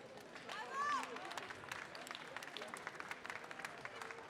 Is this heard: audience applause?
yes